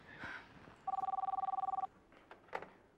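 A telephone rings indoors with one bright electronic trill burst lasting about a second, close and clear, followed by faint handling noises and no speech.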